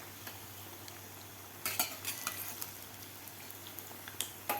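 Bread pakoda is flipped while frying in oil, with quiet background sizzle and a few sharp clinks and scrapes of a utensil against the pan, clustered in short bursts.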